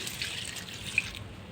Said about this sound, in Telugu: చక్కగా ఇలాగా కొద్ది కొద్దిగా పోస్తే సరిపోతుంది